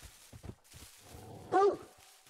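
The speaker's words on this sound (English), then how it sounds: "Figured something was up. My dog was barking." A hunting dog in the video game theHunter: Call of the Wild on the Hirschfelden Hunting Reserve gives a single short, loud bark, with quiet talking and soft game sounds before and after.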